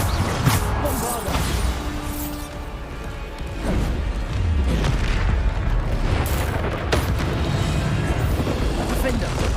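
Repeated Bombarda spell blasts from Hogwarts Legacy on PC, a dense run of booming explosions and crashes over steady game noise, with short gaps between the hits.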